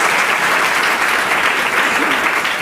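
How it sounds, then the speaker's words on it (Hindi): A game show studio audience applauds loudly and continuously, dense clapping filling the whole stretch with no pauses. "चलिए जोरदार तालियां जब हम खेल को शुरू करते हैं।"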